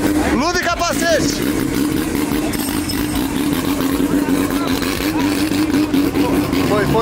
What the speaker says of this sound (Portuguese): Fumou o carro do Renato, partiu.